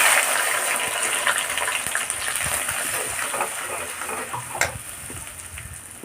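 Whole spices and ground masala hit hot oil in a kadai, with a loud, crackling sizzle and stirring scrapes that ease off gradually over a few seconds.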